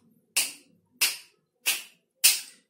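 Four crisp finger snaps in a steady, evenly spaced rhythm as body percussion, bright and close, each decaying quickly with silence between.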